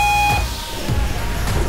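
A ship's engine room alarm for low lubricating oil pressure gives a loud, steady electronic beep that cuts off early, over the heavy, constant rumble of machinery.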